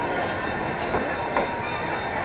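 An amusement park train at Cedar Point rolls steadily along the track with a continuous rumble and faint rhythmic clatter, a couple of brief louder knocks standing out midway.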